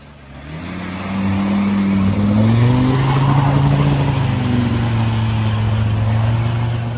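A Land Rover Discovery 2 engine labours loud and close as the 4x4 ploughs a deep water line at Cowm Quarry pay-and-play off-road site, rising after the first half-second into a sustained, wavering drone with splashing wash.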